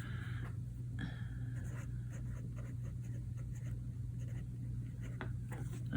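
Pink pen scratching across a paper planner page in short, close strokes, a steady low hum beneath and no voices.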